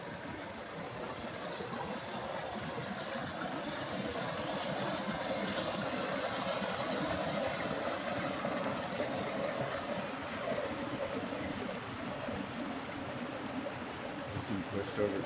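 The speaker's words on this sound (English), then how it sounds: "Got the river here." A river flows through a deep forest canyon and makes a steady broadband rush that stays even and fairly loud the whole time. No other sound stands out above it.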